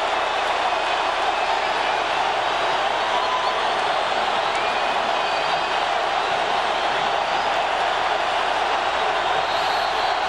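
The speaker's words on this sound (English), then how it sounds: "Listen to this crowd." Huge football stadium crowd at a 2002 Clemson vs Georgia game, a dense continuous roar filling the whole stretch without letup, broad and distant-sounding.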